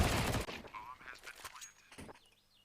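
Rifle spray in a Counter-Strike match on the Inferno map, a rapid burst of automatic gunfire at the start that cuts off, followed by scattered fainter in-game sounds and a brief caster voice.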